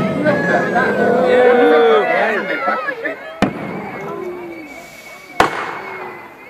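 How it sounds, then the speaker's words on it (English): Pyrotechnic blasts staging torpedoes striking a battleship in an outdoor display, two sharp loud bangs a couple of seconds apart, heard over a commentator's amplified voice and a murmuring crowd. "And as the torpedoes strike home with devastating effect"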